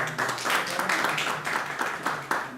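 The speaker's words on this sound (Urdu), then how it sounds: "میں گزارش کروں گا آپ کی بھرپور تالیوں میں جناب افضال بیدار صاحب سے کہ وہ اسٹیج پر تشریف لائیں" Audience applause welcomes a speaker to the stage at a mushaira poetry gathering in Barcelona: a dense, steady patter of many hands clapping at moderate volume, sustained without a break for a few seconds.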